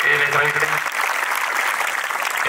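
Crowd applause at an outdoor Marathi public lecture, clapping for the sound crew: dense, steady clapping that fills the whole stretch, with a voice briefly over its start.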